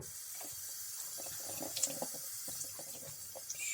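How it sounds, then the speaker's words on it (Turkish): Water runs from a tap over a yellow fuzzy toy pet, a steady close stream with light splashes and drips, no one talking. "Şöyle suyun altında böyle çıkarmaya çalışacağım."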